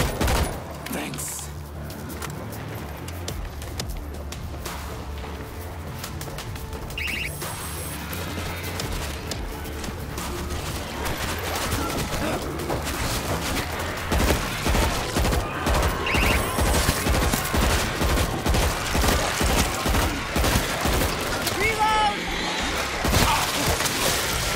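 Sustained video game firefight with dense bursts of automatic gunfire and rapid shots, loud and continuous throughout, mixed with crashes and splintering impacts while voices shout over the combat.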